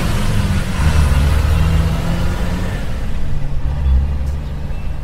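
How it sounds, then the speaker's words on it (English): A truck rumbles past outside with a deep, steady engine drone and some hiss, loud and close, with no voices. "or a truck driving past outside."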